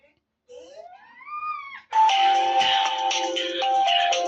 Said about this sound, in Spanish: Ese es el tono de llamada.